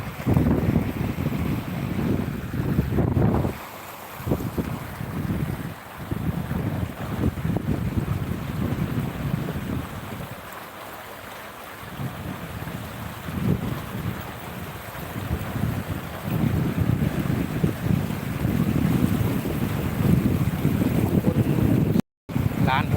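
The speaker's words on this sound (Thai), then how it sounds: "มีเรือ" Boat on a fast-flowing river at a three-way river junction in Ayutthaya, Thailand, with strong wind buffeting the microphone; a steady low rumbling wash persists throughout, with a few brief dips, at moderate loudness and without talk.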